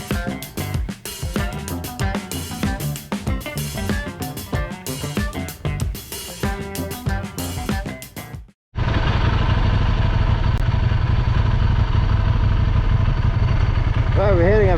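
A Kawasaki KLR650 motorcycle rides up a gravel road, its engine a steady, loud, close drone with wind noise that cuts in abruptly after a stretch of choppy, busy sound.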